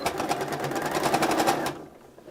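A sewing machine stitches binding onto a potholder, a fast, steady mechanical whir with rapid needle clatter, close and loud, stopping abruptly after about a second and a half.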